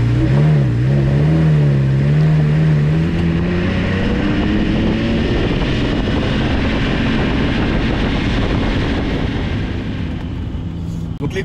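A 2008 Lamborghini Murcielago with a naturally aspirated 6.2 V12 pulls loudly while driving, its engine note swelling and rising before holding as a dense, roaring drone heard from inside the car.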